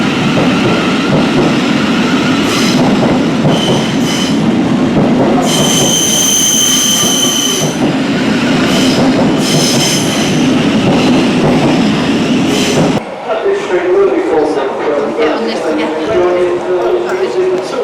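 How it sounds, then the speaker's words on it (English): A London rail train rolls loudly along the platform with rumbling wheels, repeated metallic squeals and clatter, then the tone shifts as it passes; a voice speaks over the noise. "This train will be departing very shortly."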